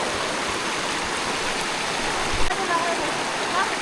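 The Bhurdi Khola stream rushes steadily past, a continuous broadband wash of flowing water close at hand, with a brief voice audible partway through.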